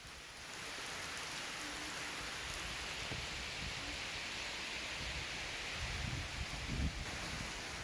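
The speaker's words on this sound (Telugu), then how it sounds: "వర్షం బీభత్సం సృష్టించింది" Heavy rain falls in Hyderabad, a steady hiss of drops on surfaces that holds at an even level throughout, with no voices over it.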